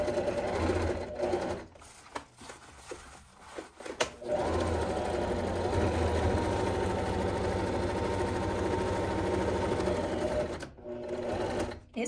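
A sewing machine stitches nylon bag straps, including backstitching to reinforce the seam. Its motor runs in a steady, loud drone with a few short breaks early on and near the end.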